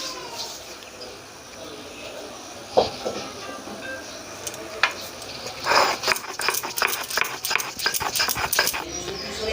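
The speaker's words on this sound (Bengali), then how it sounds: "এবার আমি আদাটা বেটে নিচ্ছি" Chopped ginger is ground on a sil grinding stone, with occasional knocks at first and then a fast, rhythmic series of close scraping strokes during the second half.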